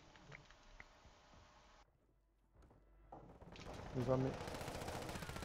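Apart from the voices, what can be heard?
submachine gun fire in a video game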